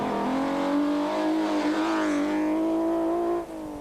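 Subaru rally car racing hard along a stage at the Toyota Dealer Rally 2001, its engine loud and close with a sustained high rev that climbs and holds before dropping away sharply near the end.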